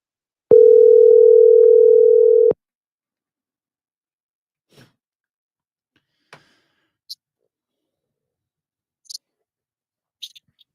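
A telephone dial tone sounds steady and loud for about two seconds, then cuts off abruptly, leaving near silence broken only by a few faint scattered clicks and soft handling noises.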